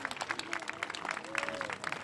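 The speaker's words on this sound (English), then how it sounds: "Let's give them a big round of applause, folks." Audience applause for honored guests at a library branch opening, a brisk, busy clatter of many hands clapping throughout a short burst, fairly close and steady.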